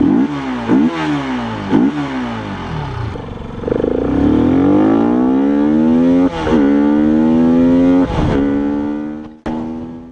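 A Bajaj Pulsar RS200 motorcycle fitted with a modified aftermarket air filter revs repeatedly, its engine note climbing and dropping through several sharp throttle blips and longer sustained pulls, loud and close with no talking.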